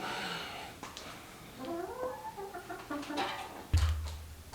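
Faint, scattered clucking from a few chickens in a quiet indoor blacksmith workshop, with a soft thump near the end.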